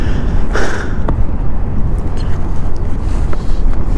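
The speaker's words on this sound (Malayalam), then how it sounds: "കാറ്റ് തന്നെ ഭയങ്കര കാറ്റുണ്ടോ" Strong wind buffets the microphone outdoors at a roadside tea shop where trucks are parked, giving a loud, continuous low rumble with gusty surges throughout.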